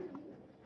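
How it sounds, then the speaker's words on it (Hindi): A kamagar pigeon gives a short, soft low coo, faint and close, lasting under a second with no other sounds over it. "बड़ा प्यारा कबूतर है, बहुत जबरदस्त कबूतर है कमगर।"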